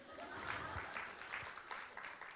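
Audience applause at a stand-up comedy show, a steady wash of clapping that holds at a fairly even level throughout, with faint voices mixed in beneath it.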